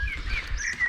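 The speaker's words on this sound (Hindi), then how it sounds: "संडे को यहाँ इंसानों की तो आवाज़ नहीं आती, लेकिन चिड़ियों की आवाज़ आती है" Birds chirping outdoors on a quiet Sunday, with several short, high calls and tweets over a low rumble of background noise and no human voices.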